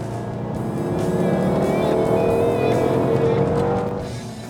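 A Dodge Challenger SRT8's powerful V8 engine roaring as it accelerates, its pitch climbing steadily, loud and close, then easing off.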